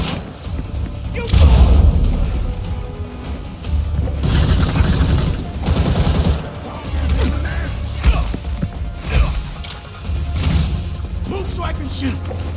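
Repeated gunshots and booming blasts crack out in bursts during a chaotic game firefight, with shouting voices over the loud, dense barrage.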